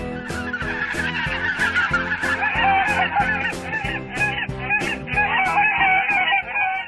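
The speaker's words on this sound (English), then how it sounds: "goose" Repeated loud, nasal goose honks come in a steady, rhythmic series, close and clear, with no talk over them.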